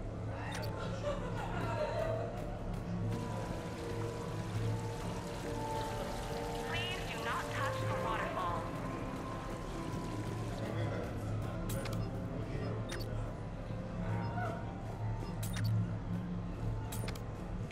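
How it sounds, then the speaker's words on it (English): A waterfall in the video game Mass Effect 3 pours in a continuous steady rush, heard alongside murmured crowd chatter and occasional voices in the background. "Please do not touch the waterfall."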